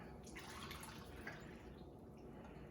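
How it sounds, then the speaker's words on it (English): Water poured from a measuring cup into a cup in a home kitchen, a steady faint trickling and splashing that runs throughout at low level. "Okay, I'm going to pour it in my cup."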